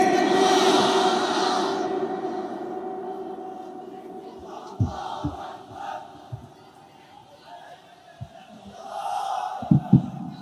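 A large crowd at a rally in Noakhali roars a chanted takbir response in unison, loud and echoing, fading into scattered shouts and thumps before another swell of massed voices near the end.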